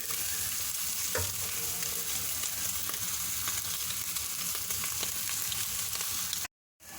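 Meat frying in a pan for a Filipino-style pareq batata, a loud, continuous close sizzle with scraping stirs throughout and a brief dropout near the end.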